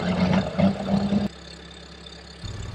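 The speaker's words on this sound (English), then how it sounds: "I'm driving the Sherp." A Sherp amphibious vehicle's engine rumbles in winter in northern Wisconsin, loud and near at first, then drops to a lower, steady idle-like hum before rising slightly again.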